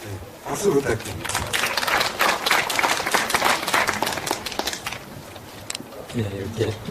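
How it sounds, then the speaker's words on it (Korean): Audience clapping and applause at a literary award ceremony, a dense, steady wash of many hands lasting several seconds before fading, with a voice speaking over it at the start and end. "박수 부탁드립니다."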